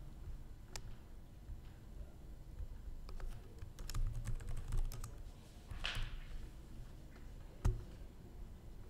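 Sparse, light key taps on a computer keyboard, quiet and close, arriving in small irregular clusters with gaps between them over a low steady background hum.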